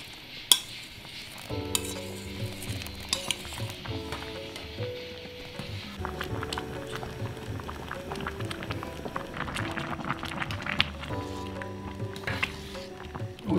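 Cooking spinach and mushroom porridge with tofu in a pot, with a soft simmer and bubbling under scattered clinks and stirring scrapes of utensils throughout.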